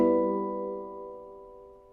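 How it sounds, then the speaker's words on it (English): A single sustained chord on a Halo Aegean handpan, with the low G tone field taking the place of the low E, rings out with bright layered overtones and slowly decays, alone. "The second chord, I just replaced the lower E with the lower G."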